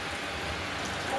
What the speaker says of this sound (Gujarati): અમારે સવારથી આમ ને આમ વરસાદ ઝીણો ઝીણો ચાલુ છે